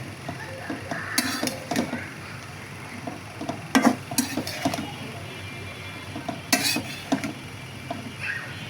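Malabar spinach greens being stirred into shrimp in a cooking pan from a rooftop garden harvest, with intermittent clinks and scrapes of a utensil against the pan in short irregular bursts over a quiet background.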